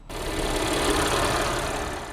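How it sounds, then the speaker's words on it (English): A 2013 Audi S4's 3-liter supercharged V6 runs steadily with the hood open, a dense even mechanical drone and whine holding constant throughout. "The engine here is 3-liter supercharged V6."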